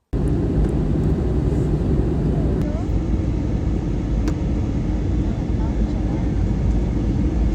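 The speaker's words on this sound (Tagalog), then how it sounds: "nagising nga ako nang malapit nang bumaba ang eroplano" Airliner cabin during descent toward Abu Dhabi, with a steady, loud, broadband engine and air roar that continues unbroken throughout.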